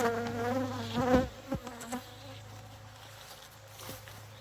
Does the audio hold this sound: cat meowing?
no